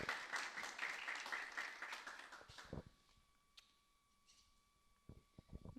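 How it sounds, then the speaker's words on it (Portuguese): Applause for a speaker at a business forum, a dense burst of clapping from the audience that fades after about three seconds, leaving a few scattered claps near the end. "Uma salva de palmas para a Renata."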